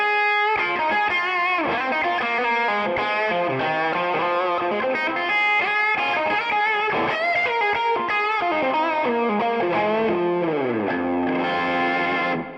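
Strandberg electric guitar boosted by a Tube Screamer overdrive pedal, a continuous, thick distorted run of chords and riffs, loud and steady for the whole stretch with no speech.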